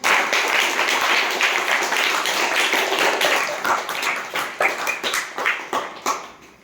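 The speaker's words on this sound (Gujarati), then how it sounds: "ચાલો તાળી પાડો એકવાર." Children in a classroom clapping together, a dense burst of applause that thins into scattered separate claps toward the end.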